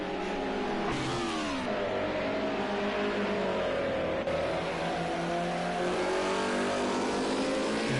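Group A race cars roar around a circuit in the racing game Project Cars 2, a dense, continuous engine howl from several cars with pitch sweeps as they accelerate and shift gears, loud and close throughout.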